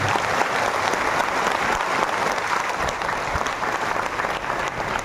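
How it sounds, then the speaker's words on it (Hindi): An audience at a spiritual gathering in Bastar breaks into sustained applause, a dense crowd clapping evenly at moderate volume for several seconds without speech. "एक बार सभी एक दूसरे के उत्साहवर्धन में तालियों की गड़गड़ाहट"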